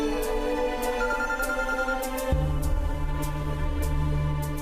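A telephone rings with a steady repeating electronic ring, several evenly spaced bursts at moderate loudness over a sustained background tone, with no talking.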